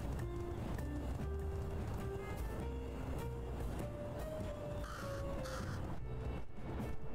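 Crows caw repeatedly in the video game Little Kitty Big City, several harsh calls at moderate distance over a steady ambient game soundscape with faint water and background tones.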